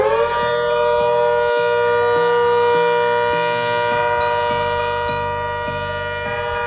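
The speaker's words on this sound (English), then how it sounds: "ACA Hurricane Siren." An ACA Hurricane civil defense siren wails loud and close with a steady, rich multi-tone drone, a low rhythmic pulsing from its rotor running underneath throughout.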